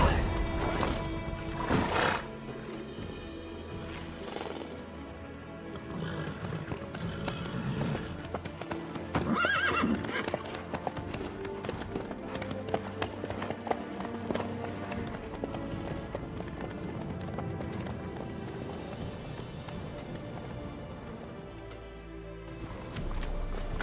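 Horse hooves clip-clopping in The Witcher 3, a steady rhythmic plodding with an occasional whinny, running under in-game dialogue and ambient sound for the full stretch.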